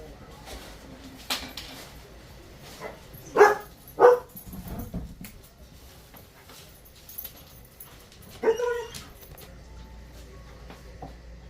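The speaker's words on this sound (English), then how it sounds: "And I do apologize to the dogs in the background." Dogs barking and whimpering in the background indoors, a few sharp yips and barks in short bursts with quieter whines between, under soft room noise.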